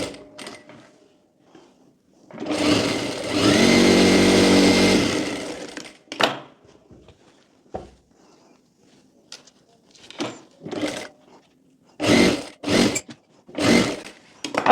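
A sewing machine stitches a Sabyasachi blouse in one loud, steady run of about three seconds. Several shorter, sharper bursts of stitching follow, separated by quiet gaps.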